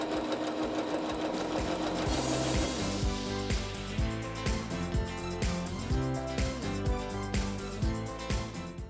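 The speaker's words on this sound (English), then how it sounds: "I am sewing the waistband to the skirt." A sewing machine stitches a waistband onto a side-pleat skirt, its motor running loud and steady with a fast, even stitching rhythm throughout and no voices.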